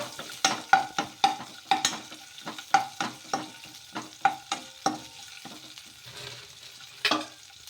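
Green chillies and sesame seeds being stirred and fried in a pan for rumali paratha: a steady run of quick, rhythmic spatula scrapes over a soft sizzle, close and clear, with no talking.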